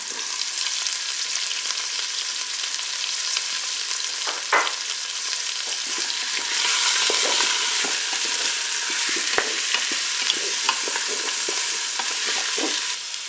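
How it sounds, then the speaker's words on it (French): Onion pieces frying in a Cookeo electric pressure cooker with a roast, a loud steady sizzle with occasional scraping stir clicks throughout, no talking. "Je vais ajouter les morceaux d'oignon."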